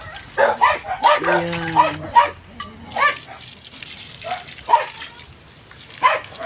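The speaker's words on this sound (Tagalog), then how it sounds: "Ingay na ng aso." Several dogs bark in short, irregular bursts outdoors while plants are being watered, some barks close and sharp, others farther off, with a person speaking briefly between them.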